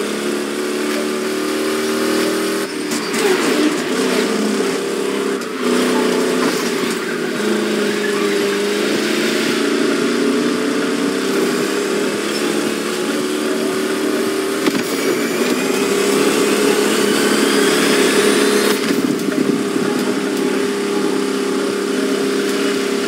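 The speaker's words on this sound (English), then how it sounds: "Good thing you're driving the 1969 Camaro Z28." A 1969 Camaro Z28 V8 engine driven in The Crew Motorfest racing game, a loud, sustained engine note that revs and climbs through several gear changes, with brief dips as it shifts, and no talk.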